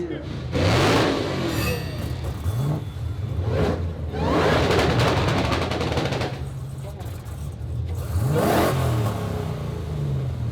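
Dodge Challenger Hellcat drag car engine revving hard in repeated loud bursts, each rising and dropping away, close by at a drag strip, with intermittent talk between the revs.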